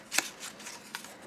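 A paper candy packet made of black paper is scrunched by hand, giving a few quick, close crinkling rustles in short bursts.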